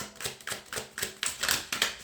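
Tarot cards riffled and shuffled by hand in a quiet room, a run of about nine crisp, papery bursts arriving roughly every quarter second, close and clear with no talking.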